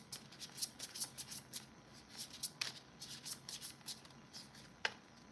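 Tarot cards are shuffled by hand in a quiet room, a steady run of soft papery riffles and flicks with one sharper snap near the end, no voices.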